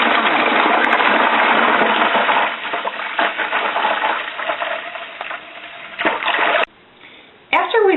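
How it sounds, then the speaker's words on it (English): Grape juice from a wine kit poured into a primary fermenter bucket, a loud continuous splashing gush that thins and sputters toward the end, then breaks off briefly before resuming. "We're going to take our juice, we're going to pour it"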